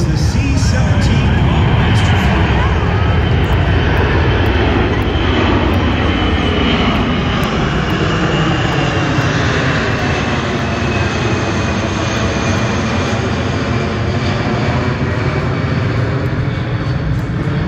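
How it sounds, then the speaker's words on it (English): A Boeing C-17 military transport jet pitches its nose up steeply in a tactical climb after takeoff at an air show, giving a loud, continuous roaring engine rumble that holds steady for the whole stretch. "the airplane that just launched and was pulling the nose up 20-some degrees in a tactical climb out."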